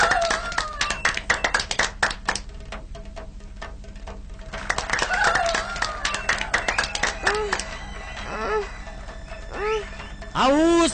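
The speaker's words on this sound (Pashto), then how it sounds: "هیله کوم چې ورته چک چک وکړئ" A cartoon audience claps for a girl's rope-walking show with a dense run of crisp, overlapping hand claps that thins out, mixed with voices and music.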